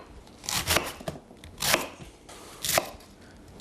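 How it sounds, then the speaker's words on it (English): A knife chops a quartered, cored cabbage on a cutting board in a few separate crunchy strokes, each one a sharp burst with quiet gaps between. "cool, let's chop this up"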